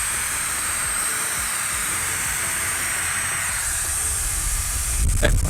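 A KiCA JetFan2 battery-powered handheld blower runs at maximum speed with a loud, steady, airy hiss close up, and a brief gusty surge of rumble near the end.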